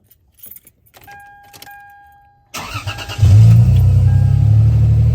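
Keys jingle and click, then a 2004 Lexus IS300 cranks briefly and catches, settling into a loud, steady low idle right up close.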